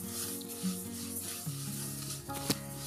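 Ragi grains being dry-roasted in a pan for homemade baby cereal, stirred continuously with a steady soft sizzle and scraping texture, a few louder scrapes standing out, no talking.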